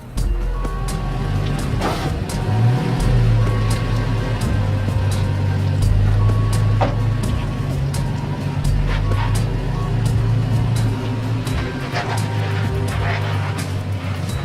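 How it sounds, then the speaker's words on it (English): A Toyota Tacoma in first gear with the rear differential locked, set to rock mode, grinds slowly up steep rock, its engine a low, loud, steady drone with occasional clunks and scrapes. "Down into first gear, and I'm going to lock the rear diff."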